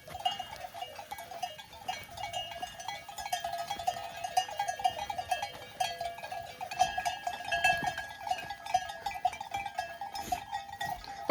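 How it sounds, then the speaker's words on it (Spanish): A flock of sheep moves through a vineyard, their continuous bleating and busy activity filling the background with a steady, moderately near presence; no speech is heard. "pesadas estas ovejas, muy valientes."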